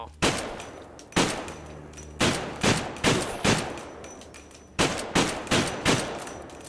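Repeated loud gunshots from the video game Eternal Evil, fired in quick bursts and single cracks with short gaps between them.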